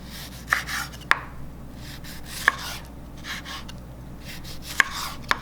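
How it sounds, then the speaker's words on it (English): A knife chops a large tomato into big chunks on a cutting board, giving about six sharp, close, evenly spaced strikes with soft rubbing between them. No one talks. "for the tomato, I will cut them big chunk."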